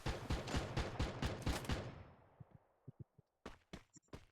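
AW sniper rifle fire in the video game Free Fire: a rapid string of loud gunshots for about two seconds that decays into a fading tail, followed by a few scattered, sharper single shots and clicks.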